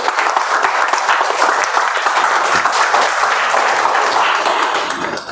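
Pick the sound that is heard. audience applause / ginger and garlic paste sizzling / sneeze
audience applause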